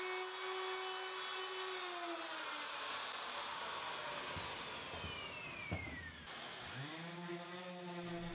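Woodworking router fitted with a bearing-guided flush trim bit, trimming leftover wood after a jigsaw cut on a fire pit cover; a high whining motor drone with shifting pitch as it cuts, spinning down and restarting near the end.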